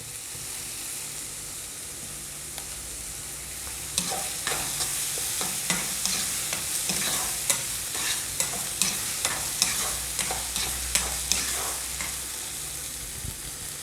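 Chopped tomatoes and other vegetables sautéed with salt in a pan give a steady sizzle, then rhythmic scraping and stirring strokes from the midpoint on, close and moderately loud.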